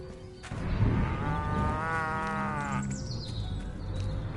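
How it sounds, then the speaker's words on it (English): A cow in Destroy All Humans! Remake lets out one drawn-out, wavering moo lasting a couple of seconds, fairly close, over a low game ambience. "Alright, we should have one more cow around here."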